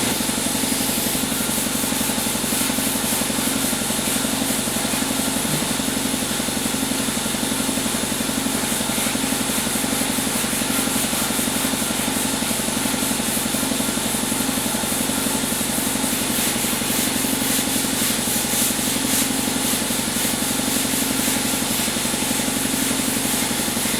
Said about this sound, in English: I got the top part sanded up here